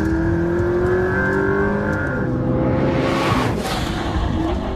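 A McLaren P1 supercar accelerates hard without letup, its engine note climbing steadily in a loud, continuous roar that swells with rushing wind near the end.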